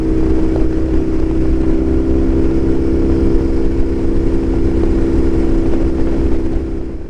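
Motorcycles ride on a cold early morning in Yellowstone National Park, the engines droning steadily and close with constant wind rush and no break in the sound.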